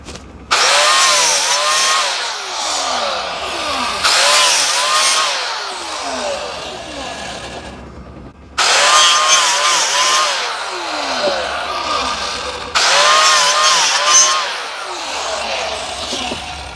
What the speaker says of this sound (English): now I'm all set up with my biscuit joiner, and all I've got to do is plunge into each corner